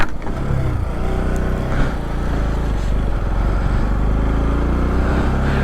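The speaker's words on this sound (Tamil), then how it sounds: "நம்ம வண்டி கொஞ்சம் ஏறது கஷ்டமாக இருக்குது" A motorcycle engine laboring up a steep mountain road in Ladakh, on the world's highest motorable road, a steady, close, loud drone holding throughout with no speech.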